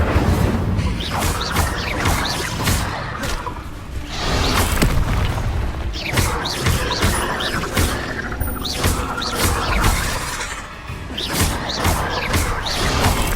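Fire spell bursts in Hogwarts Legacy combat, a run of loud booming whooshes and thuds packed densely across the whole stretch, with crashes and impacts layered over continuous battle noise.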